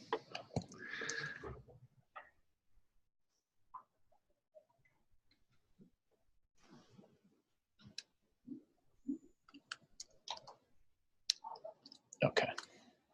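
A computer keyboard clicks during an online meeting in sparse, irregular bursts of quiet taps, with brief speech at the start and scattered sounds between the keystrokes.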